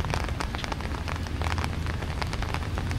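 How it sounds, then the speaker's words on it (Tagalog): Steady rain pours down by a river in Noveleta, Cavite, in a dense, continuous hiss, with scattered closer drops pattering on a hard surface throughout. "Pero tuloy-tuloy po ang ulan."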